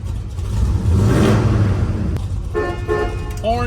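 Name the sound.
car horn of a 1967 Chevrolet Chevelle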